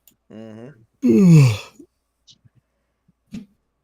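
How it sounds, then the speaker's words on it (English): A person gives a loud, drawn-out voiced yawn during a tabletop role-playing session. It follows a shorter vocal sound and is followed by faint clicks and quiet. "I almost thought that was a sound effect on Foundry, the yawning"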